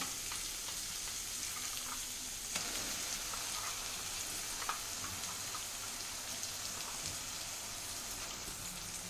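Ground masala for methi rice fries in a pan with a continuous, even hiss like light rain, broken by occasional soft stirring clicks, with no voices.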